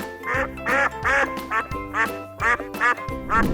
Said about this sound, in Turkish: Bu bir ördek ördekler vak vak diye seslenir.